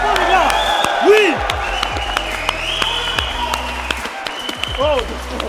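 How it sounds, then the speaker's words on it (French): A fight-event crowd applauds the fighters, with scattered clapping and cheers under a loud announcer's voice and echoing music. "On les applaudit bien fort, les gars."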